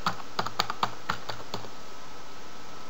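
An administrator password is typed on a computer keyboard: about eight crisp, close key clicks come in quick, uneven succession during the first second and a half, then quiet.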